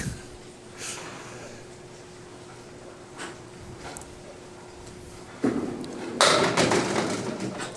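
A candlepin bowling ball strikes the pins with a dull thump, followed by a bright clatter of wooden pins scattering and tumbling near the end.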